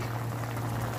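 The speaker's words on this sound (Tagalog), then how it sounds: "Kumukulo" Pork adobo being cooked down into humba simmers in a covered pot with water, giving a short, steady, close bubbling hiss and a low hum.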